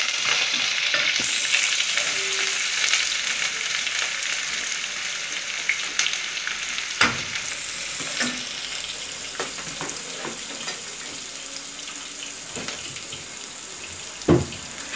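Finely chopped large onions with curry leaves and salt sauté in a pan while cooking rice upma, a steady sizzle broken by occasional sharp scrapes and clinks of a stirring spoon, with no voices.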